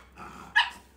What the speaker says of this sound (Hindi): ये पता क्यों भौंक रही है